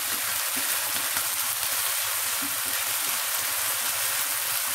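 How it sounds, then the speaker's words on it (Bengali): Onion and garlic frying in a pan make a steady, close, even sizzle, a dense hiss that holds without pause for the whole few seconds. "একটু কষা হবে, পেঁয়াজের কাঁচা গন্ধটা চলে যায়, পেঁয়াজ আর রসুনের।"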